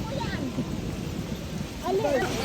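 Heavy rain pours in a steady, dense hiss, with faint voices and brief whistly sounds drifting through in the background.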